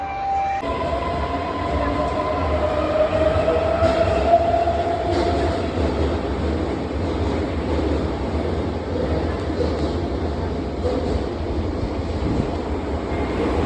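A Japanese metro train in Tokyo rumbles steadily nearby, with rising motor whine early on and a continuous rolling roar that persists throughout.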